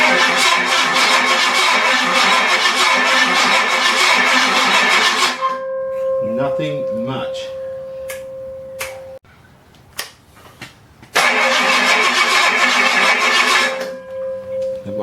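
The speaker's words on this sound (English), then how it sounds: "we're finally ready to give it a kick in the guts." A junkyard V8 engine cranks and runs with a loud, rough roar, cuts out for several seconds while a voice speaks, then roars back to life.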